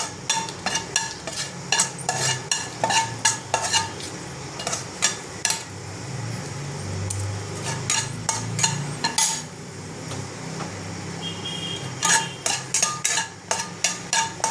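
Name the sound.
dried red chillies sizzling in hot oil for tempering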